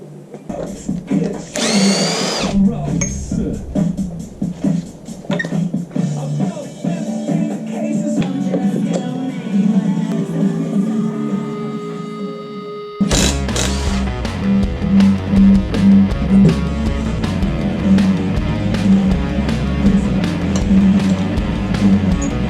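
Cylinder head bolts being loosened on a Land Rover Defender engine during a rebuild: a steady, whirring power tool that runs continuously, then steps louder and denser partway through, with some talk mixed in.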